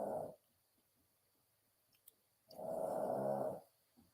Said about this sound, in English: Hear Daisy snoring down there?